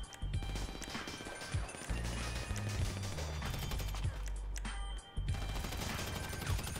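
Rapid gunfire and crashing impacts in the video game GTA Online around the Paleto Bay houses, dense and loud bursts with brief gaps, filling the whole stretch without talk.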